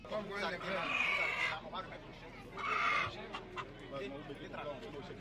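Chickens cluck and cackle close by in two loud bursts, with softer clucking between them and a faint low hum underneath.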